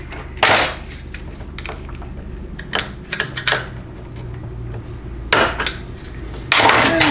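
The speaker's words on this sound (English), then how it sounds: "Let me get this snap ring off of here and we can have this fully disassembled." Metal clinks and taps ring out in scattered bursts as a snap ring is worked off a 4L80E transmission planetary on a workbench, with louder knocks near the start and end.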